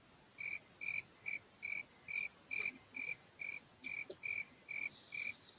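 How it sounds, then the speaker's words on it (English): Crickets chirp in a regular pulsing rhythm, a dozen evenly spaced shrill bursts over a faint night background, alone with no voices. "that's right, a bunch of fucking crickets."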